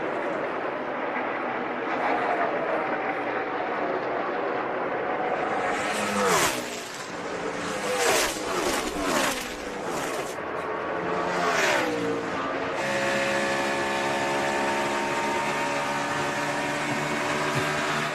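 NASCAR stock cars racing for position on an oval, engines roaring loudly and continuously, with several cars swelling and passing close by in the middle stretch before a steady pack drone resumes.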